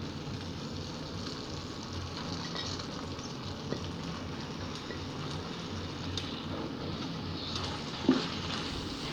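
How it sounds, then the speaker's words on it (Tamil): Fried shrimp go into a pan of cooked-down tomato gravy and sizzle steadily, a continuous close hiss with faint stirring and a small clink near the end. "இனி இறால் பொரிச்ச இறால் போட போகிறேன்."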